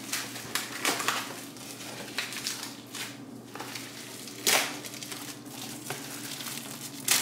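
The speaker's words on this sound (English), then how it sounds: "All right, so we're gonna unwrap this." Plastic packaging from a frozen pepperoni pizza crinkles and tears as it is pulled open up close, with irregular crackling bursts and a few sharper rips and no talking.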